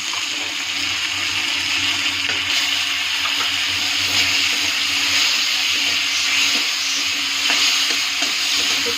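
Turmeric and spice powder fry in hot oil in a pan while being stirred, giving a loud, continuous close sizzle with faint scraping throughout and no talking.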